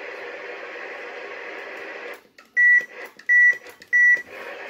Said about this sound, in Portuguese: Vamos colocar o primeiro bip.